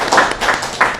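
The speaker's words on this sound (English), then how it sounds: "You can clap, and then I'll answer your questions." A meetup audience applauding at the end of a TypeScript talk, a brief burst of close claps with a few distinct hand slaps over about a second, no speech.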